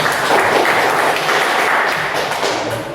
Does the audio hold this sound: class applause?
yes